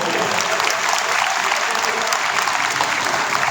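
Loud, sustained applause from a large crowd at a Teej fair for women, held in a grain market in Ghanaur, a dense steady roar of clapping with no break across the whole stretch.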